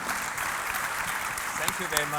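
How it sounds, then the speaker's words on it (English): Audience applause for conference panelists at a finance session in Malta, a steady wash of clapping that fills the whole stretch at an even level. "Please join me giving a big round of applause to our panelists here."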